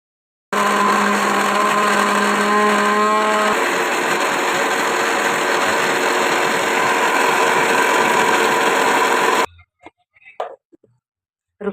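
A kitchen mixer grinder whirs loudly and steadily as it grinds onion and curry leaves into a paste, its motor pitch dropping slightly partway through, then cutting off abruptly and leaving a few faint clicks and knocks.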